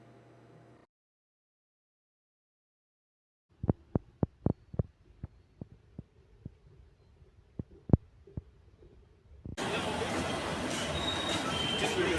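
A train at Karjat railway station on the Central Railway gives sharp, spaced metallic clacks after a moment of silence, and then a loud, steady rush of rolling noise sets in.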